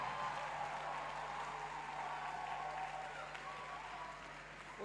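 A church congregation applauding and cheering for Jesus fills the space with steady, dense clapping that holds at an even level throughout, broad and continuous with a faint underlying murmur.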